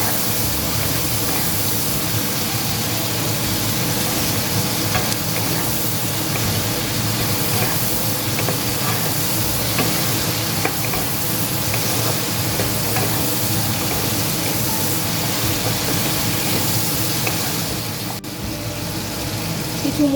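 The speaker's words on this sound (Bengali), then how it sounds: "আমি একটু নেড়ে চেড়ে নেব।" Tomatoes fry in a pan for a Bengali banana-flower dish, giving a steady loud sizzle and hiss throughout, with faint scraping from stirring now and then and a brief dip near the end.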